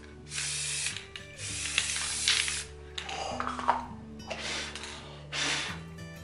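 Several long hissing bursts from a spray paint can aimed at a ceiling, each lasting about a second, with a low mechanical hum underneath and short pauses between sprays.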